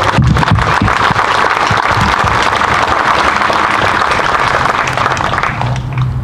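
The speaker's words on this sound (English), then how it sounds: "let's give them all a big round of applause" An audience applauds at a Veterans Day celebration, a dense, steady wash of clapping that holds at full level for about six seconds before easing slightly at the end, with low murmur underneath.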